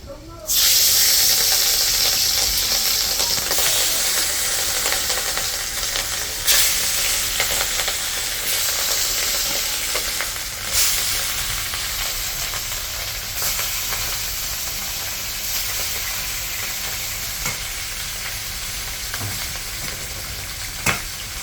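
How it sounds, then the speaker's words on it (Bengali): Hilsa fish rubbed with salt and turmeric fries in hot oil with a loud, dense, close-up sizzling hiss that carries on steadily with small crackling bursts. "লবণ হলুদ মাখাই নিছি আমি ভেজে নিই"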